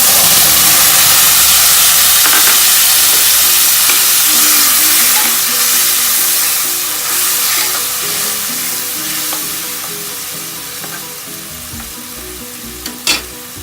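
Tomatoes and crushed ginger hit hot oil in a pan and fry with a loud, continuous sizzle and hiss, stirred now and then, fading slightly toward the end.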